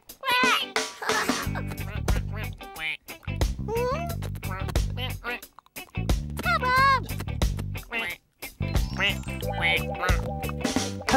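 Cartoon ducks in a children's animated episode quack and chatter in playful, babbling voices, with background music underneath throughout.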